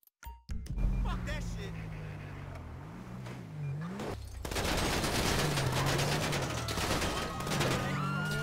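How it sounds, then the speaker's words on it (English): Rapid bursts of gunfire aimed at a police officer in the LSPDFR police game come amid engine rumble and a wailing siren, the shots growing louder and denser partway through, with someone talking over them. "Shots fired on officer."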